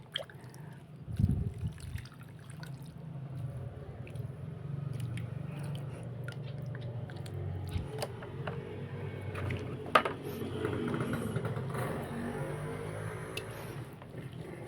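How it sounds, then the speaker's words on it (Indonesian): Clean water poured onto a bougainvillea cutting in a plastic container, soft splashing and dripping with squishy wet sounds, quiet and close, continuing in irregular bursts. "Kemudian kita siram dengan menggunakan air bersih."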